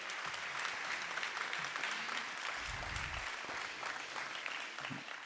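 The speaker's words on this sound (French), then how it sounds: "Je pense qu'on peut les applaudir." A conference audience applauds at the closing plenary of a French energy-transition event, with steady, dense clapping filling the room throughout and no speech over it.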